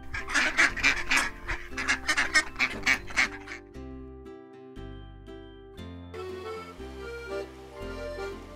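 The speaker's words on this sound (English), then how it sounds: "Duck." A duck quacks in a rapid series of loud, nasal calls for a few seconds, followed by a soft, sustained musical tune with no voices.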